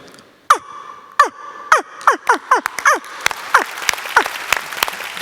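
A person imitates a heron's call with a run of harsh, descending croaks, about eight in a row, followed by a faint noisy rustle.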